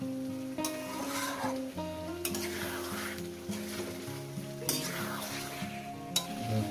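Goat mutton is sautéed (kosha) in a pan with a steady sizzle, punctuated by repeated spatula scrapes and clinks against the metal, with tonal music playing underneath.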